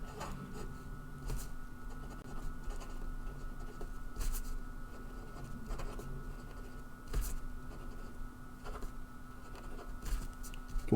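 Marker or chalk writing on a board during a set theory lecture: quiet, scratchy strokes in short, irregular bursts over a steady room hum, with no talking.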